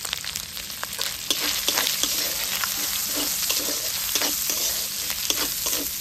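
Two large onions, chopped small, sizzle steadily in a pan after ginger and garlic, with a continuous close crackle and repeated scraping stir strokes throughout; no one speaks.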